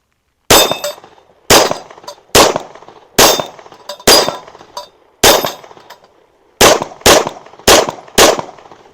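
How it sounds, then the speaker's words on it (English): A Staccato C2 handgun fired ten times at a shooting range, each shot a loud sharp crack with a short ringing tail, evenly spaced at first and then in a quicker string of four, heard close and without talking. "let's see how well Trigger Bar can shoot the Staccato C2"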